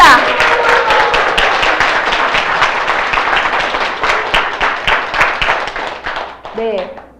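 A large audience at a business seminar bursts into sustained, loud applause, dense clapping filling the room for several seconds before thinning out, with a brief voice near the end.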